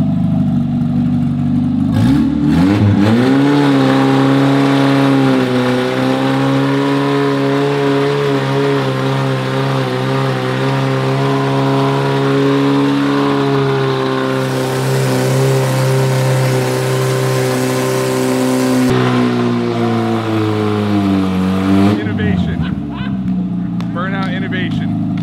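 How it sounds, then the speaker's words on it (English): An MG Midget doing a burnout, its small engine revving hard and holding a loud, steady high-pitched drone that rises and falls near the end. "The first burnout that's ever been done in an MG Midget."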